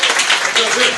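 Audience applause of encouragement at a Korean political talk event, a brief burst of dense clapping with voices mixed in, loud and close.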